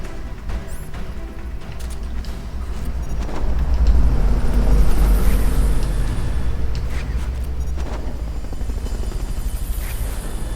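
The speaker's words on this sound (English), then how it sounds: "Fulton recovery subject confirmed onboard helicopter." A Fulton recovery helicopter in the video game Metal Gear Solid Peace Walker drones with a low rotor rumble that swells and then holds steady, loud and alone.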